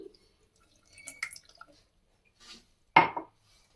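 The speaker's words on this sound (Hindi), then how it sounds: "थोड़ा सा इसमें शामिल करेंगे पानी" Water poured from a small vessel into a pot holding agar agar powder in a home kitchen: a short splash near the end after a few faint clinks, close and alone.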